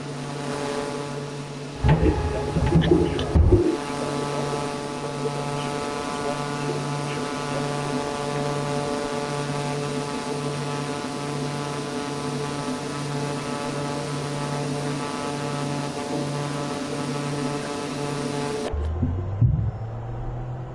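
A Pilatus PC-12 single turboprop engine in Microsoft Flight Simulator 2024 drones steadily and loudly throughout, a constant hum with a low throb, with short clattery bursts near the start and a change near the end.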